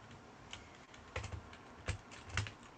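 Computer keyboard keys clack in a few scattered bursts of quick strokes, faint and fairly close, heard alone while someone tries to fix the keyboard.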